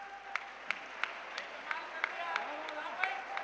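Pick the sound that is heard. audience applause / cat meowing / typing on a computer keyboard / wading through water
audience applause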